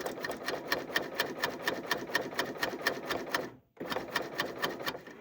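A Bernina C28 sewing machine fitted with a clear cover chainstitch foot stitches in a fast, steady mechanical rhythm. It stops briefly, then starts again at the same even pace, loud and close.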